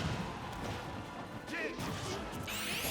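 A final smash attack landing in Super Smash Bros. Ultimate, heard as a loud crashing impact with whacks and whooshing bursts from a busy game mix. A commentator talks over it.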